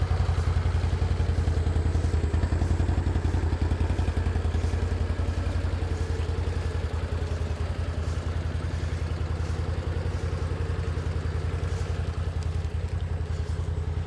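A 2025 CFMoto CForce 1000 Touring ATV engine runs quietly at idle, a steady low rumble with a rapid even thumping pulse from up close, no one talking.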